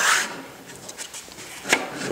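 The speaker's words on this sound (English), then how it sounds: "we spin the mast and sand it" A wooden boat mast is sanded while it spins in a homemade jig, making soft, close rubbing strokes that swell and fade, with a sharper scrape near the end.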